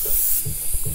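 An airbrush sprays fluorescent yellow paint onto a white T-shirt, giving a brief, steady, soft hiss.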